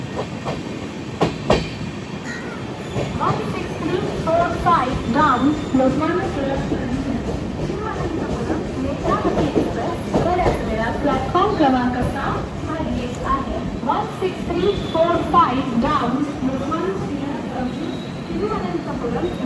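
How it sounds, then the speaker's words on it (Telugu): The Netravati Express rolls into Thane station with loud rumbling and clattering wheels while people talk over the rail noise. "ఫస్ట్ స్టాప్ తానేకి వచ్చింది బండి"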